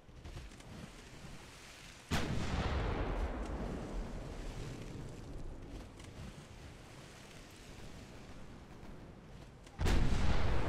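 Heavy naval gunfire from 7-inch guns in the warship game Ultimate Admiral Dreadnoughts: a deep booming blast, a long rumbling roar that fades slowly with sea-like wash, then a second loud boom near the end.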